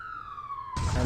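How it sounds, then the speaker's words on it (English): An ambulance siren wails in a steady high tone, sliding slowly downward as it passes by, then broad noise swells loudly near the end as the vehicle draws close. "Ambulance coming by."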